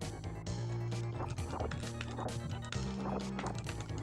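A horse gallops in the Knights of the Round video game, its rhythmic clip-clop hoofbeats mixed with game music and sharp impact effects.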